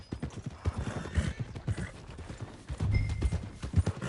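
Horse hooves clip-clop at a steady walking rhythm in Red Dead Redemption 2, close and clear, with a soft snort or whinny now and then.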